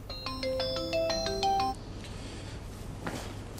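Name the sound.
phone ringing with an incoming call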